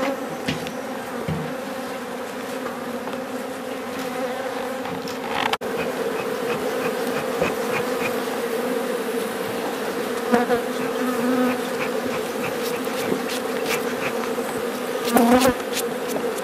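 Dense, steady buzzing of many honeybees close by at a hive being smoked, a constant droning hum with individual bees zipping past, occasional clicks and bumps.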